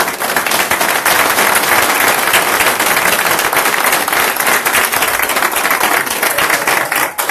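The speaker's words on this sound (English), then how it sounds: "You could please stand and give them a round of applause." Steady, loud applause from a school district board meeting audience as teachers and principals stand, dense clapping sustained throughout with no pauses.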